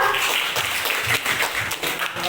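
A classroom of students claps for their teacher during an observed lesson, a brief burst of loud, close, uneven hand clapping that fills the moment.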